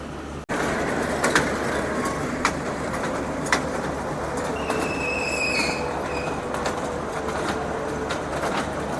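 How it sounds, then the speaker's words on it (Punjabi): A small carnival train ride rumbles steadily past at a fair in Barnala, with faint clicking wheels and a high squeal in the middle, and a bird chirps in the background. "ਲਓ ਜੀ ਟ੍ਰੇਨ ਵਾਲਾ ਝੂਲਾ ਤੁਸੀਂ ਦੇਖ ਸਕਦੇ ਹੋ"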